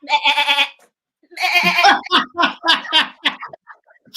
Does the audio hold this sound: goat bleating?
yes